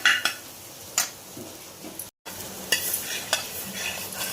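Grated coconut is dry-roasted in a pan over a high gas flame and stirred repeatedly with a spoon, giving sharp scraping clinks at irregular intervals over a faint sizzle, with a brief gap in the middle.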